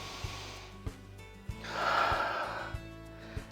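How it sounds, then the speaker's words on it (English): A slow, deep breath during a yoga mountain pose: a soft, airy exhale swelling and fading over about a second, with faint regular ticks in the background. "Take a few deep breaths."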